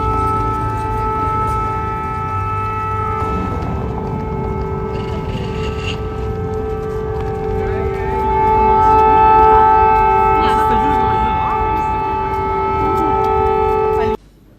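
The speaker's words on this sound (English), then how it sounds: "if you listen closely, you can hear sirens" Steady droning sirens wail in the distance, layered tones holding under faint background noise and a brief voice, ending abruptly.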